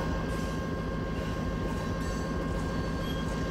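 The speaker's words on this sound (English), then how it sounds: "Help with this monstrous train." A long coal train hauled by SD60 locomotives passes at a distance, a steady rumble with a faint tonal hum that holds evenly throughout.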